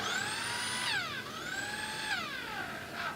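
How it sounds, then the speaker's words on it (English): A high, whining drill sound rises and falls in pitch in two long sweeps as the bit gets pinched in the hole sides, steady and fairly close, with no talking. "the drill bit is getting pinched into the sides"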